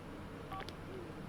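Brief electronic phone-dialing tones from The Sims 4, a couple of short beeps over a steady low background hum, with no talking.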